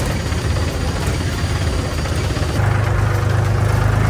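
A tractor engine runs steadily at low pitch, a continuous close mechanical drone that grows slightly louder and rougher partway through, with no talk over it.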